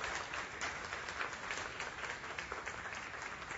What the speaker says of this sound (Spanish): El aplauso es para Dios